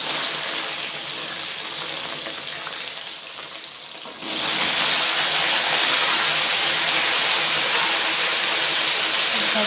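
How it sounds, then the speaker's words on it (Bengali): Cut potatoes and other vegetables drop into a hot pan with cumin, and a broad sizzling hiss swells suddenly partway through and then holds loud and steady after a quieter stretch. "তো আলুটা প্রথমে দিয়ে দিলাম আমি"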